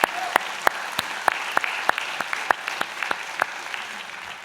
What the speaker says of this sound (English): how about a round of applause for all those people that supported you on your journey?